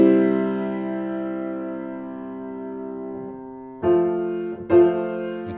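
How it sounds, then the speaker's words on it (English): Sustained instrumental chords move from the five chord to the one chord in F, forming an authentic cadence, with a long held chord followed by two shorter re-struck chords, clear and close with no talking. "the cadence that's formed between the chord of the 5 to the chord of the 1, it's called an authentic cadence"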